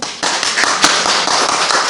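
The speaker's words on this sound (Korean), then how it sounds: "박수" A church congregation at an Easter Sunday service bursts into applause, a loud, dense burst of many hands clapping that starts abruptly and continues steadily for a couple of seconds.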